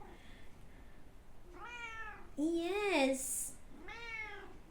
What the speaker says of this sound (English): I hope you are cat lovers, because I'm sorry about all the meowing